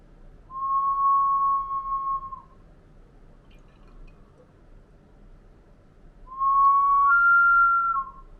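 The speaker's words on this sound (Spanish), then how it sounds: "encontrás un montón de estas botellas silbadoras" Two steady, breathy whistle tones from a ceramic whistling bottle, each lasting about two seconds, separated by a quiet pause, clear and close with no talking.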